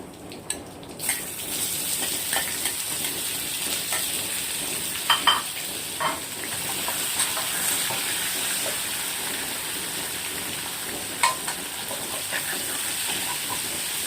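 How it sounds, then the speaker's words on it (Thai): Fatty beef sizzles and hisses steadily in a hot pan for stir-fried basil beef, with occasional sharp clinks and scrapes of stirring over the constant frying noise. "นี่ครับใส่เนื้อลงไปครับ"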